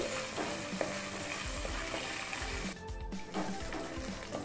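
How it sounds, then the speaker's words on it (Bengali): Whole garam masala, bay leaf, dried red chilli and mace fry in hot oil for a cauliflower korma. A steady close sizzle carries throughout, with soft stirring scrapes and a brief dip in the noise near the middle. "ফোড়নটাকে একটু ভালো করে ভেজে নিচ্ছি।"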